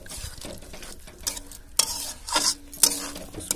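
Prawn masala being stirred and fried in a pan, uneven bursts of spoon scraping and wet sizzling that rise and fall in short strokes, close up with no talking.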